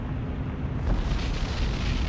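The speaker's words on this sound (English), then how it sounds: "That was a nice explosion." A torpedo strike in the naval game War on the Sea produces a deep, rumbling explosion that swells and rolls on through its short length, heavy and low.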